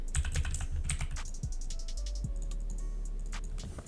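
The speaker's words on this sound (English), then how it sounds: "hit B on your keyboard" Rapid bursts of computer keyboard typing, clicky and close, come in clusters during a Photoshop editing session, with a few sparser key presses and a faint low hum underneath; no one speaks.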